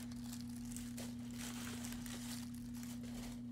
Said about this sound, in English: So now I'm going to unwrap this.